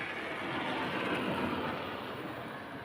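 An electric subway train runs underground with a steady, loud roar of rolling wheels and rail rumble, continuous and close throughout, with no voices.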